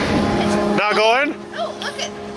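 A vehicle's tire spins in deep snow as the engine revs, with a rising, wavering whine over a steady rumbling drone close by; voices sound around it.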